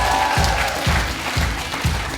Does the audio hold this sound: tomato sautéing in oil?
no